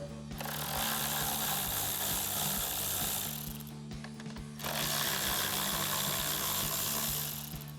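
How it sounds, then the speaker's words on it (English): Ratchet wrench with a 7mm socket backing out the screws that hold the upper grille light on a 2024-2026 Mustang GT, a steady mechanical clicking and whirring that runs almost continuously with a brief pause midway, close and fairly loud. "Just take a 7mm socket and pop those out."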